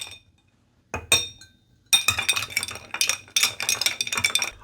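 A whiskey cocktail stirred in a glass for a holiday drink, with a bar spoon clinking against glass and ice in quick, bright, steady bursts after a brief quiet start, close and alone.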